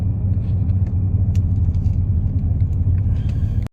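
A Lexus GS300 with catless headers, a Megan midpipe and a single-exit Vibrant muffler idles with a deep, steady low exhaust rumble, close and continuous before cutting off abruptly.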